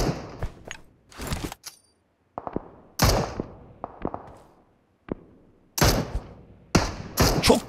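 Grenade blast during a firefight in a battle royale video game, heard as several sharp, loud bursts with quiet gaps between them. It is the loudest at the start and again near the end, and no one talks.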